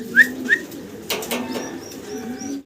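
A large male pigeon on a farm gives low, rolling coos close by, mixed with a few short higher chirps from other birds.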